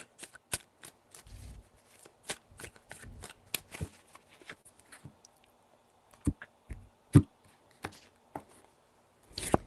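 Tarot cards being shuffled in a series of crisp riffling bursts and taps, close and fairly quiet, with pauses between.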